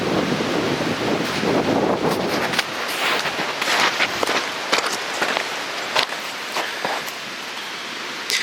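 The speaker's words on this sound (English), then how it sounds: "It's a little windy and there's water running. You can hear that" Gusty outdoor wind buffets the microphone over a steady wash of running water. Louder rushing at first gives way to intermittent gusts and rustles, with nobody speaking.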